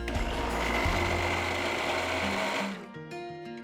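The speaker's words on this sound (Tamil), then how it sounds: "கொஞ்சமாக மிளகாய் ஊற வச்ச தண்ணியை ஊற்றி நல்லா பேஸ்ட்டாக அரைங்க." A mixer grinder grinds soaked chillies with a little soaking water into paste, whirring loudly and steadily, then winds down near the end into a quieter, fading hum.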